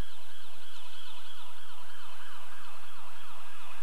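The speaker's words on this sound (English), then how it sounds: "Why do they have sirens?" An emergency vehicle siren wails in a fast repeating up-and-down pattern, loud and continuous, with a low engine-like hum underneath.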